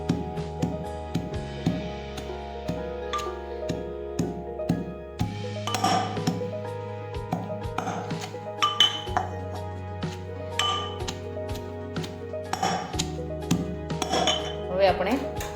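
Garlic pounded in a mortar, a busy stream of close metallic clinks and knocking strikes at an uneven pace, with ringing tones between hits.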